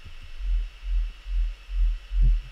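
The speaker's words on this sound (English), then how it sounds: "if we play with the drive, we can see it adds in harmonics" A synthesized sine wave modulated by an LFO and pushed through drive distortion, swelling in five slow, loud pulsing throbs of deep bass with added harmonic grit, alone without talk.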